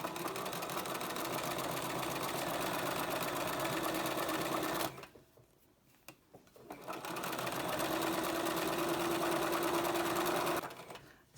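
A sewing machine stitches around a dress pocket, running loud and close in a steady hum, pausing briefly for a pivot with the needle down, then running again before stopping.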